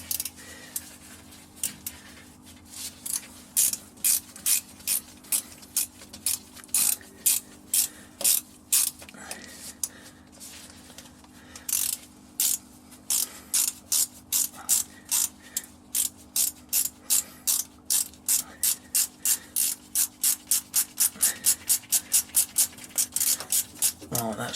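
Stern gland packing being screwed in, a long run of rapid, regular ratcheting clicks close by, speeding up into dense bursts toward the end over a steady low engine-room hum.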